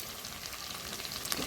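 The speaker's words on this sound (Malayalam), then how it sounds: "ഞാൻ നല്ലവണ്ണം ഇത് ഇളക്കി കൊടുക്കുന്നുണ്ട്" Onions and green chillies fry in a pan while being stirred, a dense, close crackling sizzle that holds steady throughout.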